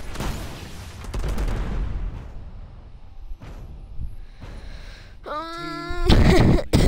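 Gunfire in a video game rings out as a burst of sharp reports followed by booming blasts and a rising electronic whine near the end, loud and close, with no voices over it.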